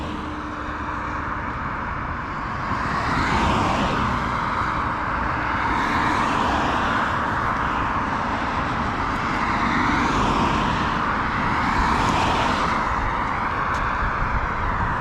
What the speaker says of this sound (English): A little traffic here today.